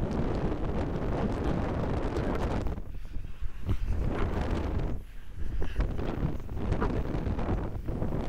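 Strong wind buffets the microphone at a beach near Dhanushkodi, a loud, continuous roaring rumble that briefly eases twice before surging back.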